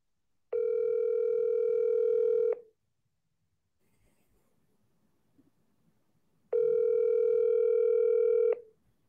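A telephone call sounds two long, steady ringing tones, each about two seconds, separated by a few seconds of near silence with faint background noise.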